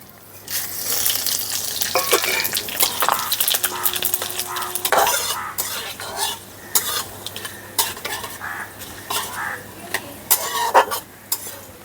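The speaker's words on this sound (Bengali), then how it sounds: "তেলের মধ্যে এখন দিয়ে দিচ্ছি দুটো তেজপাতা একটু ছিঁড়ে দিয়ে দিচ্ছি, একটা শুকনো লঙ্কা আর কিছুটা পাঁচফোড়ন।" Torn bay leaves, a dried red chili and panch phoron sizzle in hot oil in a village-style Bengali kitchen, as a katla fish head and moong dal dish is started. Close-up frying crackle mixes with repeated scraping and clattering from a stirring utensil against the pan.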